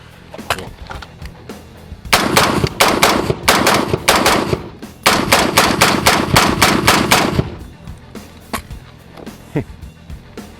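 Rapid bursts of rifle fire from a Dark Storm Industries Variant 1 at an outdoor range in Arizona, two long strings of quick, loud shots with a few single shots before and after.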